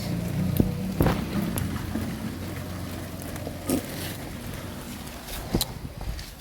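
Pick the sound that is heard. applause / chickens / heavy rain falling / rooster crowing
heavy rain falling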